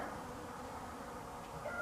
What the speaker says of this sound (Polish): a tu pszczoła się już rusza